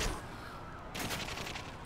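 Gunfire from The Darkness 2 video game, a quick burst of rapid shots starting about midway through, fairly quiet under a dull low rumble with no talking.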